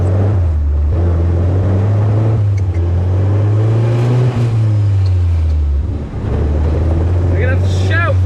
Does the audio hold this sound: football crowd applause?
no